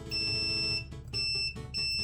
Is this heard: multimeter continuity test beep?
yes